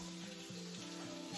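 Chili and five-spice seeds (panch phoron) frying in hot oil while bitter gourd shukto is being cooked, a quiet, steady sizzle with a low hum underneath.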